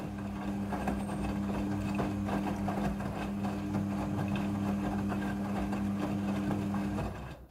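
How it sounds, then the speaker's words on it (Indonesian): Front-loading washing machine running its wash cycle: a steady mechanical hum with a low drone and light repeated ticking, continuous and close, cutting off just before the end. "Mesin cuci front loading sudah full automatic dalam mencuci."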